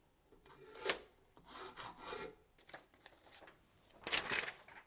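Rough rasping strokes of a file on an axe head, several irregular scrapes in short bursts, close up with quiet pauses between.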